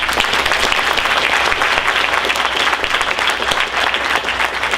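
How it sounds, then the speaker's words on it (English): Steady, dense audience applause at a school senior scholarship awards night, a continuous crowd clapping that holds level throughout without voices. "Can we just have a little applause for them?"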